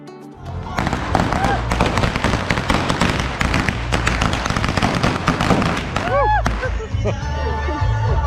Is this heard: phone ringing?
no